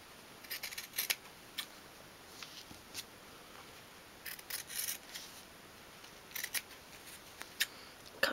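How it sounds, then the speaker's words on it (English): Scissors cut squares of material for a 1/12th scale dolls house sofa, giving a series of quiet, close snips in irregular short bursts over a faint background hiss. "going to cut away these squares at the straight edge"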